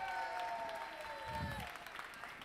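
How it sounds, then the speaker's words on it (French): Audience at the 2015 French barista championship applauding finalist Charlotte Malaval: faint, steady crowd clapping in a large hall, with a sustained tone and a low thump beneath. "Je vous demande un tonnerre d'applaudissements."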